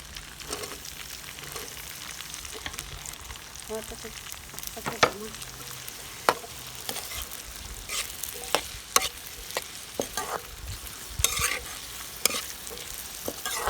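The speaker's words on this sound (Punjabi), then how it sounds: "ਘੀ ਗਰਮ ਹੋ ਗਿਆ। ਹੁਣ ਆਪਾਂ ਪਾਵਾਂਗੇ ਪਿਆਜ਼, ਜਿਹੜੇ ਆਪਣੇ ਕੱਟੇ ਹੋਏ ਸੀ।" Chopped onions sizzle in hot desi ghee on a chulha, a steady crackling fry broken by repeated clanks and scrapes of stirring, close and fairly loud.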